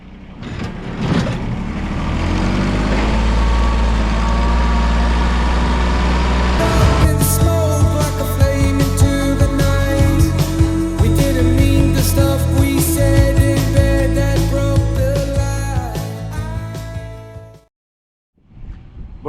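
Tractor engine running steadily while its bucket pushes the remaining poultry manure out of a shed during barn cleaning, a continuous low mechanical drone that gets busier midway and cuts off briefly near the end.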